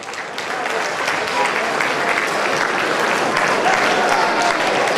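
Audience applause at a wedding celebration: dense, sustained clapping from a crowd swells in at the start and holds loud and even throughout.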